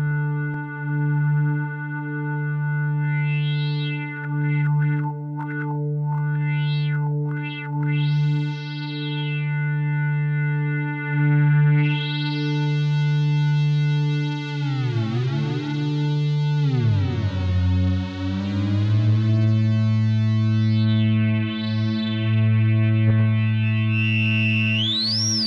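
A homemade square wave oscillator for a modular synth drones steadily through effects, with sweeping pitch bends, warbling chorus-like modulation and distorted harmonics, loud and continuous with no talking.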